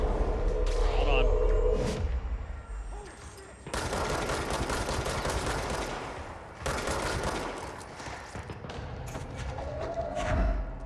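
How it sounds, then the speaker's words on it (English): Bursts of rapid gunfire and heavy thuds from the Indiana Jones video game, loud and dense in two long stretches with quieter gaps, while someone talks over parts of it. "Who are you guys shooting at?"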